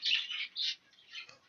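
Small caged hens, likely budgerigars such as grey green and dominant pied birds, chirping and tweeting in a breeding shed, with quick overlapping high twittering calls in short bursts, fairly close and clear.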